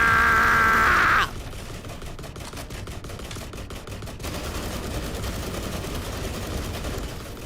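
Rapid gunfire in the video game The Last Caretaker, a loud tonal burst up front giving way to a steady stream of close, crackling shots with no talk.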